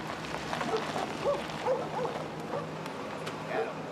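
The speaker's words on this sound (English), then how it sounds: "At the station, Jonah meets up with his canine colleagues" German Shepherd police dogs at a station give faint barks and yips, scattered through the clip under a person talking.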